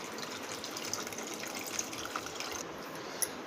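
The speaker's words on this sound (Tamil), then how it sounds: "புளி கரைசலை விட்டுடலாம்" Tamarind water is poured into a pot of masoor dal sambar on the stove. A steady gushing pour continues throughout with a few small clinks, close and fairly quiet, with no speech.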